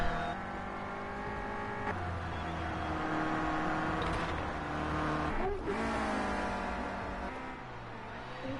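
Clio Cup race cars lapping the Red Bull Ring, a steady loud engine drone with shifting revs and a brief rushing swell midway as a car passes close, no talk.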